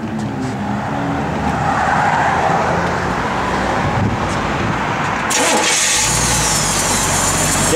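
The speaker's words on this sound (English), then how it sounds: "Have Jordy fire this thing up." A 1961 Chevrolet Impala SS Bubble Top engine cranks and catches, settling into a loud, rough idle close by, with the starter and rising engine roar filling the clip.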